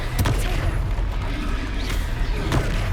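A Confringo blasting spell explodes in the Hogwarts Legacy video game, with dense booming bursts and sharp cracks repeating across the moment over a loud, rumbling low-end battle din.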